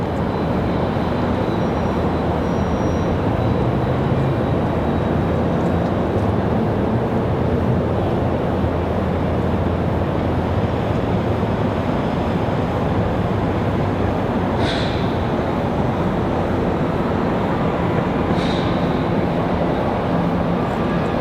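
A UPS cargo plane departs Raleigh-Durham International Airport for Philadelphia, its jet engines a broad, continuous roar sustained steadily for about twenty seconds, with faint brief tones in the background and no voices.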